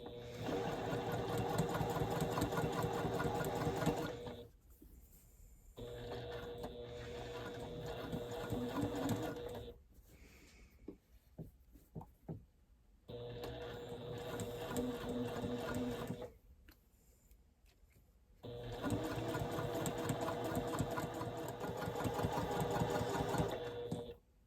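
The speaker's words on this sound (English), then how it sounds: "So I'm just going to do a quick little basting stitch all the way along each one of these edges." Sewing machine running a basting stitch along the edges of a batik cotton jersey knit top, steady loud mechanical whirring in long bursts with short pauses between seams.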